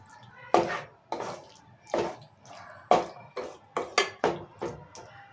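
Chicken pieces being stirred with spices in a pan, a series of scraping, clinking strokes of a spoon against cookware in an irregular rhythm, close and moderately loud, with no talking.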